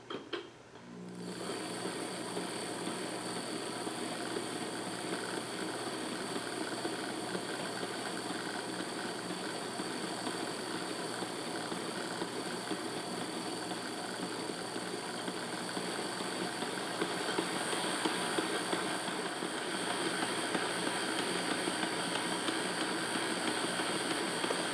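A Mantua 0-4-0 model locomotive motor runs at a low throttle setting, giving a steady, even hum with a faint whine that holds without pause throughout, no talking.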